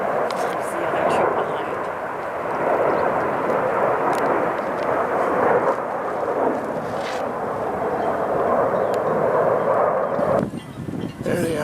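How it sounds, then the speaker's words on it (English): Stunt planes flying in a three-ship wedge formation give a steady, broad engine roar that stays loud and continuous for several seconds before easing off near the end. "stunt maneuver planes are joined in a formation of three, creating a wedge."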